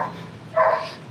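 A single short dog bark sounds at a moderate distance against a quiet background, with no talking.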